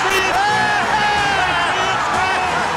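A football stadium crowd roars and whoops after a field goal kick in a snowy Patriots versus Raiders game, a loud sustained cheer under an excited commentator's voice.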